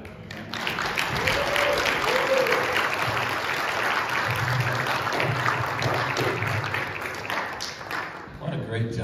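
A crowd at a homecoming event applauds and cheers in a dense, sustained roar of clapping that lasts throughout and tapers slightly at the end, with voices mixed in.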